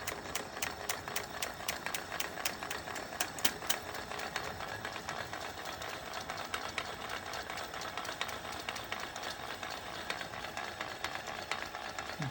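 A spinning wheel from Ed Leedskalnin's perpetual motion holder runs at steady speed, giving a fast, even mechanical clicking whir, close and continuous, with no voices.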